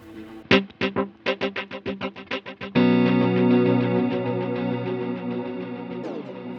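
A Strymon TimeLine MX delay pedal set to a triplet subdivision turns a guitar's picked notes into quick, evenly spaced triplet repeats. A sustained, shimmering wash of echoes follows, with no talking.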